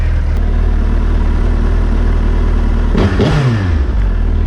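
A 2020 Suzuki Hayabusa motorcycle engine runs loud and steady just after a cold start, idling with a deep continuous rumble, then a short throttle blip rises and falls near the end.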